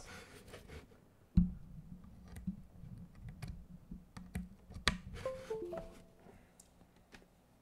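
Typing on an MW75 R1 polycarbonate gasket-mount mechanical keyboard: uneven, muted keystroke clicks in short bursts, with one louder thump near the start and a quieter room behind.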